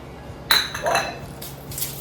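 Bacon gets mixed with syrup and packed brown sugar in a bowl, heard as a few close clinks and scrapes of a utensil against the bowl, short and sparse, with quiet gaps between.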